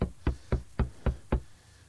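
Six evenly spaced, hollow thuds of knocking on a door in the horror game Paranormal, close and crisp, roughly a quarter second apart, followed by quiet room tone.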